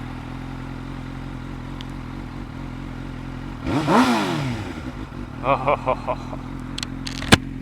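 2005 Suzuki GSX-R 600 motorcycle engine running close by, a low steady idle that swells into a brief rev near the middle, followed by a few short blips; a voice speaks briefly.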